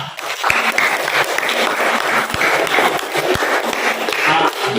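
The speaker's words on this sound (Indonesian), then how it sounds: "Jadi kita berikan lagi aplaus untuk kelompok 4." Steady applause from a classroom audience for a student group in Merauke, dense clapping with a few sharper claps, loud and close, lasting throughout.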